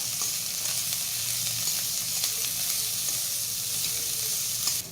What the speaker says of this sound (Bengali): পেঁয়াজটা একটু ফ্রাই করে নিলাম